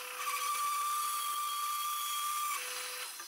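A bandsaw cuts through a resin and cork vase, a faint high steady whine with a thin tonal edge that holds for a few seconds before easing off.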